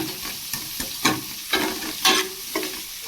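Onion, garlic and curry leaves sautéing in a pan, a close sizzle broken by regular spatula scrapes and knocks about every half second.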